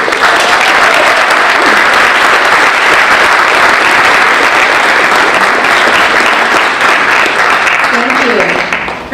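Audience applause welcoming alumna Julia Anderson onto the stage at a Northeastern Illinois University event, a loud, dense burst of clapping that holds steady and fades at the very end.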